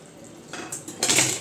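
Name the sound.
fried fish pieces added into boiling gravy water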